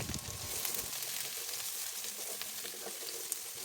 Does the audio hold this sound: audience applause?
no